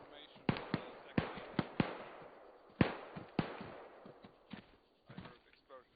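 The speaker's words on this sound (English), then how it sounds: "I heard explosions here." Explosions in a military video game, a string of sharp, loud blasts and pops coming in irregular bursts, some close together, with fainter cracks trailing off near the end.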